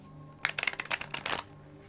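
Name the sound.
tarot cards being shuffled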